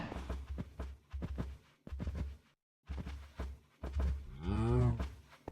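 Cows in the Minecraft video game are herded home across mountainous terrain. Rhythmic blocky footstep thuds lead into a long, wavering moo near the end.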